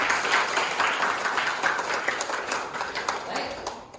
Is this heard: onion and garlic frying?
no